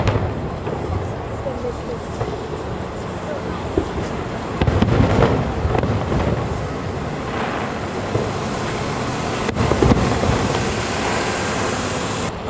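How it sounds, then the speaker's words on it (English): Magic Kingdom fireworks burst outdoors at night, a continuous rumbling crackle of explosions with heavier booms around the middle, heard at a distance. "the fireworks, the Magic Kingdom fireworks are going on"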